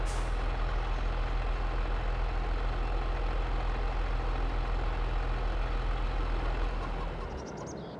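Truck in Farming Simulator 22 on the Elm Creek map, with a loud, steady engine drone and a low rumble throughout. The sound cuts back near the end, and a faint hiss follows.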